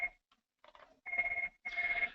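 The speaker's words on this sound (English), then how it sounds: "Please forgive my phone ringing here in my office." An office telephone rings in repeated electronic trills, faint and somewhat distant, with short gaps between the bursts.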